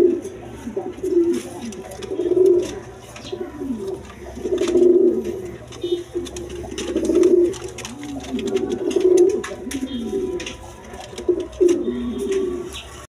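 A pair of Chila pigeons sitting on two eggs coo close by, their low throaty phrases swelling and fading in about five slow, regular bursts over a faint background hiss.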